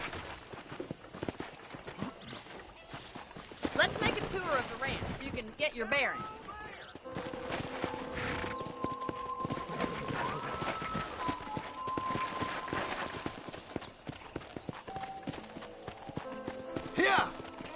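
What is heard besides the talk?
horse riding hooves, Red Dead Redemption video game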